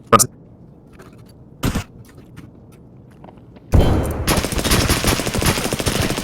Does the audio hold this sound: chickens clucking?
no